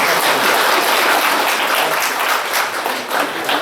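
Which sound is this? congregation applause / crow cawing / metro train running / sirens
congregation applause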